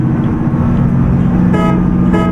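A car engine drones loudly and steadily on the road while overtaking another vehicle, with a close, sustained rumble and two short horn toots near the end.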